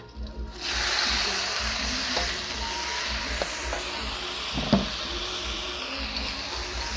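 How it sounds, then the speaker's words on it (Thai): Oyster mushrooms stir-frying in a hot pan with garlic and chili in oil, a continuous close hiss with a few light clinks and scrapes of a spatula, with no voices. "ผัดให้มันหอมๆจักน้อยเนาะค่ะเนาะ ทีนี้ก็เอาเฮ็ดลงเลยค่ะ"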